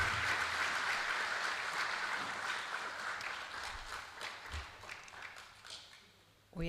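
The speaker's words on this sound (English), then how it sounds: "Another round of applause for our panelists." A room full of attendees at a Smart Africa Youth Chapter launch in Malawi claps for the panelists, a steady moderate round of applause that gradually fades before a brief rise at the very end.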